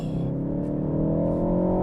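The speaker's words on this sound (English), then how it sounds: "This car does make a good noise." A 2022 Ford Focus ST in sport mode gives a steady, loud engine drone with a rich, layered tone and a slowly rising pitch, heard from inside the cabin.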